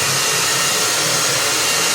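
A steady, loud whooshing drone from a blower drying a chicken, running continuously without change.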